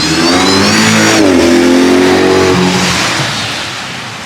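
A car engine revs hard in a race shop, its loud exhaust roaring up and settling into a rasping, slightly flatulent drone that slowly fades toward the end.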